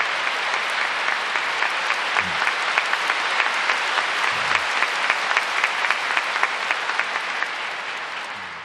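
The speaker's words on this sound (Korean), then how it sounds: "폴라완 목사님께 우리 감사하는 박수 드리겠습니다" A church congregation at a Sunday service led by Paula White breaks into sustained applause of thanks, a dense, steady wash of many hands clapping throughout, with a few low thumps along the way.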